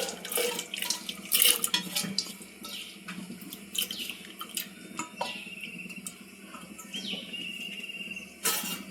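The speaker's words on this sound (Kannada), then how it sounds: "ಕುಕ್ಕರಲ್ಲಿ ನೀರು ಕಾಯಕ್ಕಿಟ್ಟಿದ್ದೀನಿ ಬೇಳೆ ತೊಳ್ಕೊಂಡ್ರೆ ಹಾಕ್ತಾಯಿದ್ದೀನಿ" Tap water runs into a vessel while lentils are washed in a kitchen, a continuous splashing flow with intermittent clatters and swishes of grains and utensils.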